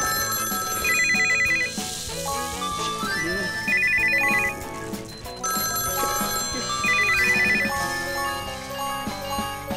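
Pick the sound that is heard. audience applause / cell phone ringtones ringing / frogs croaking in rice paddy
cell phone ringtones ringing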